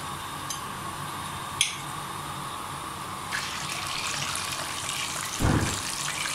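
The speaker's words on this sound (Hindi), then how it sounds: "मैं इसमें फिश डाल रही हूँ ये देखें फिश फ्राई होना स्टार्ट हो गई है" Fish dropped into hot oil on a high flame, giving a rushing sizzle that swells after a few seconds and holds steady, with a couple of brief clicks and a low thump near the end; no talking.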